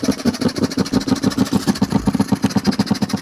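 A car engine runs close by, a loud, steady idle made of rapid, evenly spaced pulses.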